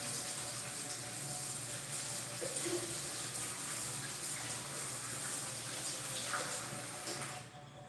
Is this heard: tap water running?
yes